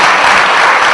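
Loud, dense applause from an audience at a Hindi kavi sammelan poetry gathering, a brief, close burst of many hands clapping with no voices over it.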